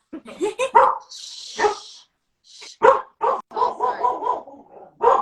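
A dog barks and yips several times in short bursts, with whiny, vocal tones between barks, close and fairly loud.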